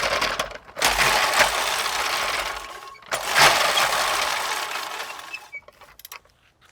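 A push reel lawn mower spun by one wheel on concrete, giving two long whirring, clattering runs of spinning blades, each several seconds, close and fairly loud.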